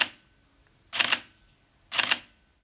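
Two crisp mechanical shutter clicks from a Sony A7 III camera, each a quick double-snap about a second apart, close and isolated against near silence.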